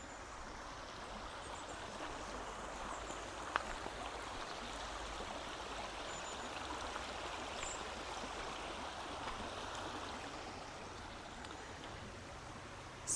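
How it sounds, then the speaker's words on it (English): The River Severn babbles in a steady, broadband rush of flowing water that holds constant throughout, close and continuous with no talk. "Babbling River Severn."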